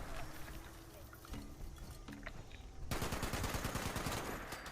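Gunfire in the video game Fallout 76, with bursts of rapid shots and a dense stretch of sustained firing in the second half, mixed with voices talking.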